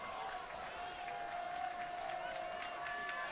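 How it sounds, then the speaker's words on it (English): A crowd roars at a varsity high school football game against Naperville late in the fourth quarter, a sustained, distant wash of cheering and noise with a tone running through it and no clear speech. "Crowd is roaring loud here"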